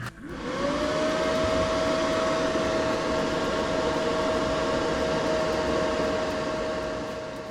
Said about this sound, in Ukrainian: Реле перемикаються гучно, вентилятори теж працюють гучно.